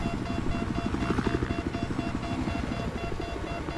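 Helicopter rotor and engine noise from the video game Battlefield 4, a steady, loud mechanical drone with a rhythmic pulsing throughout, with faint game sounds mixed in.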